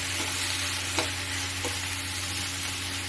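A thick paste of mint, cumin, ginger and garlic is stirred in a hot pan, giving a steady sizzling hiss throughout with a few faint scraping strokes of the spoon, close and continuous.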